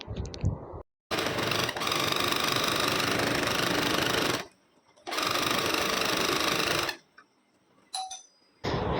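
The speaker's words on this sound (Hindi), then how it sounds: "तो चलिए अब इसके ऊपर की जो सिलाई है वो लगा लेते हैं।" A sewing machine stitches the hem design on a thin, lightweight pant fabric, running in two long steady bursts of loud rapid whirring with short pauses between, plus a brief final run.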